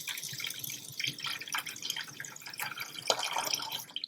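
Tap water runs into a kitchen pot holding eggs, a close, steady splashing with irregular drips and gurgles. No voices are heard.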